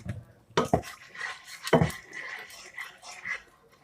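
A tablespoon of oil goes into a pan for stir-frying ginger for Thai chicken rice, marked by a few sharp metallic clinks of spoon against pan and quieter clatter, with a soft voice between them.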